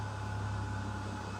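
A heat dryer used for crafting blows air in a steady, even hum and hiss, close and continuous for a brief moment with no talking.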